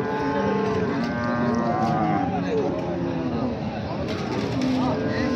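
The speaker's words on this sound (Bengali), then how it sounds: "সেরা মানের আরও একটি গাভী" A dairy cow moos loudly several times close by at a cattle market, long drawn-out calls over busy outdoor crowd chatter.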